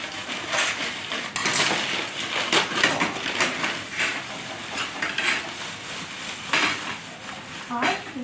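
Dishes, plates and cutlery clatter continuously at a family meal in a newly built house in the Philippines, with frequent clinks and scrapes close by and voices talking over the handling.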